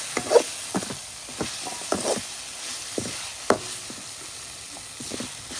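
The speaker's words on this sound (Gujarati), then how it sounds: "લસણ વાળું મરચું નાખી દઈશું આપણે." Red chili paste with garlic hits a hot pan and sizzles faintly, with intermittent stirring clinks and scrapes spaced through a quiet background.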